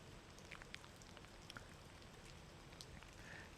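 Light rain pattering on a car while driving a mountain road in Nagano, Japan: faint, scattered drops tapping over a soft steady hiss, with a louder bump at the very end.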